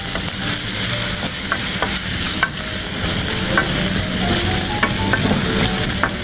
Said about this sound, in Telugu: తర్వాత ఉల్లిపాయ కూడా వేస్తున్నాను.